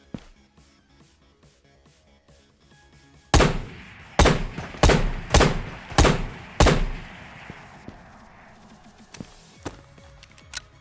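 Gunshots in a first-person shooter video game: a tight burst of six loud, sharp reports in quick succession, followed by a few fainter isolated shots against quiet game ambience.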